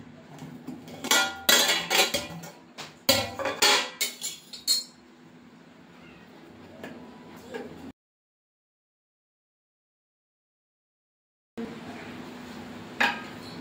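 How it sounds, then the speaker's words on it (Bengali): A metal cooking pot of chicken biryani has its lid lifted and handled: a cluster of sharp clanks and clinks, then quieter rattling, a silent break, and faint low background noise when the sound resumes. "এইবার হাঁড়ির ঢাকনাটা খুলে দেখব।"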